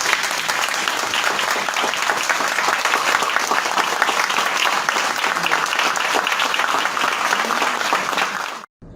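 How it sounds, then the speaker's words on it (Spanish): A crowd at a literature presentation applauds steadily and enthusiastically for several seconds before the clapping abruptly cuts off. "Aplausos."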